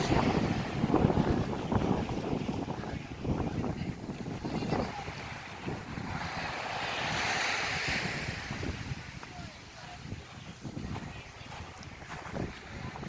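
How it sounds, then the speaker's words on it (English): Calm ocean waves wash onto a beach on a windy day, steady surf hiss with gusts of wind buffeting the microphone and a fairly quiet, continuous roar. "I'm really shocked at how calm the waves are, considering how windy it was"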